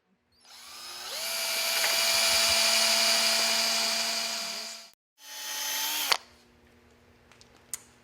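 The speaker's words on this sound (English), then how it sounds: "drill pilot holes" A power drill whirs up and runs steadily for several seconds, stops, then spins again briefly before a few clicks and clunks, drilling pilot holes with a bit just under 1/4 inch to mount a Lincoln Top Plate hidden floating-countertop bracket.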